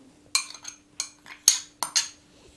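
Utensil clinks and scrapes against a bowl while onion, bell pepper and chicken are mixed together, a handful of sharp irregular knocks close by with quiet gaps between.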